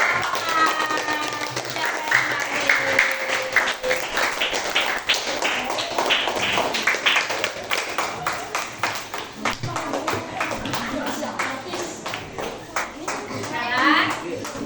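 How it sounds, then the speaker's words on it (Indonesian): Children in an elementary school classroom clap for a group presentation, scattered sharp claps and taps mixed with kids' voices and chatter running through the whole stretch. "beri tepuk tangan untuk"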